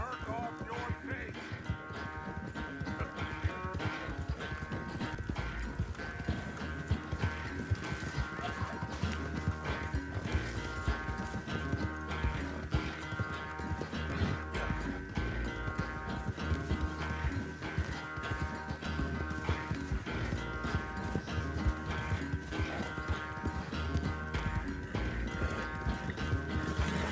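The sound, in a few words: horse hooves galloping in Red Dead Redemption II video game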